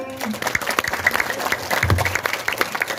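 Audience applause at a Balinese bondres comedy performance, steady clapping with a few stronger bursts under faint voices and stage sound.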